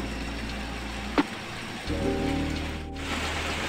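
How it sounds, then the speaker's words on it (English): Heavy rain pours steadily outdoors at a girls' hostel in Mizoram, a dense constant hiss with a brief sharp tap partway through and a low rumble joining near the end. "it started raining, and it's raining heavily now."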